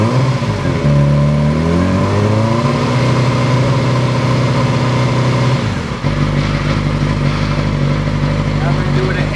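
A 2008 Yamaha YZF R6 sport bike with a Toce Double Down exhaust revs up and holds around 4,000 RPM, a loud close steady drone with a rising pitch sweep at first and a brief dip before settling again.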